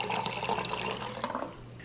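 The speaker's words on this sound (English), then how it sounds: "Casein whey, mix it up with some cold water." Cold water runs from a tap for a short burst, a bright steady splashing stream that tapers off at the end, with no voices.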